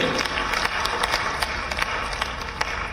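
Members in the Madhya Pradesh legislative assembly chamber clap steadily to welcome the chief guest, a brief, even burst of dense applause with sharp individual claps standing out.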